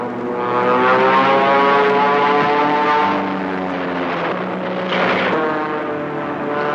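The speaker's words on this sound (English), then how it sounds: "And here come two Thunderbolts." Two P-47 Thunderbolt WWII fighter planes fly in with a loud, steady propeller-engine drone. The engine tone holds throughout, with a slight swell near the end.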